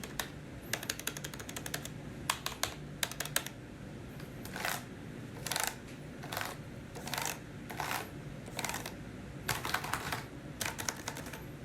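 Rapid clicking of a 2018 15-inch MacBook Pro keyboard in irregular bursts of quick keystrokes with short pauses between, close and fairly quiet.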